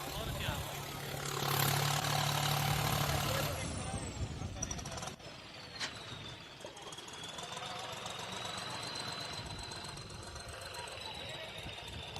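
Tractor engine running at a trolley-pulling contest in Derabassi, a loud sustained mechanical roar with knocking bursts and a rising whine, heard amid crowd noise and loudspeaker chatter.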